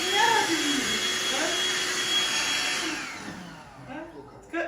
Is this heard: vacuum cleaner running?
yes